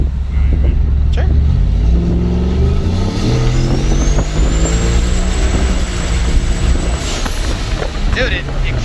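2020 Ford F-150 turbo pickup under hard acceleration on a dyno, loud sustained engine roar climbing steadily in pitch alongside a rising turbo whine, wind buffeting throughout.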